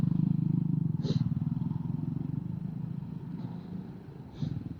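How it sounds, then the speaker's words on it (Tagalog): Motorcycles sit in traffic with a low, steady engine rumble that is fairly quiet and continuous, with a few faint clatters over the idle. "Mga motor."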